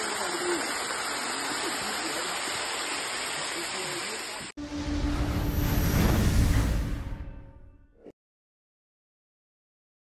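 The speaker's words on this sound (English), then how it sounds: "This is Nyankumasu waterfall." Nyankumasu waterfall in Ghana's Ashanti Region roars with broad, steady rushing water, then a closer, louder surge of cascading flow swells before cutting to silence.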